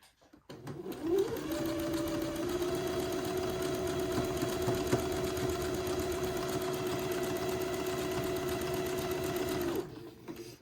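A sewing machine zigzag-stitches entredeux lace trim into the armhole openings of a baby daydress, running in one steady, continuous motor hum close by for about nine seconds, starting up and stopping at either end, with no talk.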